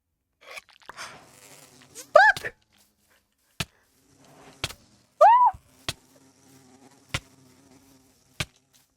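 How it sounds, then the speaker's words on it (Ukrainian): Bees buzzing in Minecraft, heard as short rising buzzy whirs near the listener, scattered between sharp clicks and quiet game ambience, with a little talk. "А на мене бджоли не нападуть, якщо я мед буду збирати"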